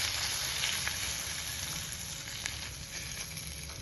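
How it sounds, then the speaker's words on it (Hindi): Flour and garlic roasting in a hot pan, giving a soft continuous sizzle with a few faint utensil ticks, at low level and with no talking. "ये मैंने इसमें ऐड करके जल्दी से चलाना है और इसे भूनना है"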